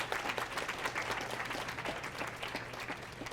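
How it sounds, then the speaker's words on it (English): An outdoor audience in an alleyway outside a theater applauds at a scholars reception, a steady, fairly distant wash of many hands clapping that carries on evenly without talk. "please, let's give them another nice round of applause"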